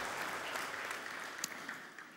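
Applause for a finalist at the EY Entrepreneur of the Year 2024 results ceremony, a steady wash of hand-clapping from a large audience that gradually thins toward the end.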